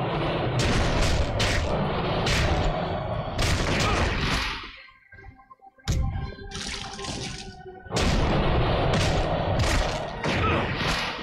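Dense gunfire rattles in Hellboy The Science of Evil as loud, sustained bursts with booming impacts, broken by a brief lull full of mechanical clanks before the shooting resumes.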